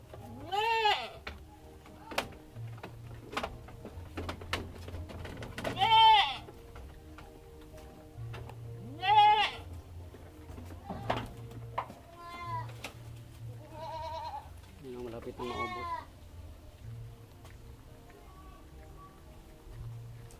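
A pet goat bleats repeatedly in short, wavering calls at close range, with several louder cries spread across a quiet farm setting and low background rumble.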